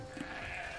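A short, faint sheep bleat from the game Age of Empires II, muffled under steady background game noise.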